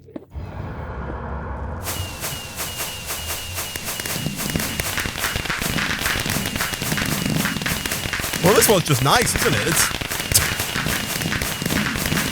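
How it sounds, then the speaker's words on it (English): Fireworks bursting in a modded Minecraft game, a dense, continuous crackle and popping barrage that swells around the middle and keeps going, with someone talking over it. "other than that, it's just fireworks"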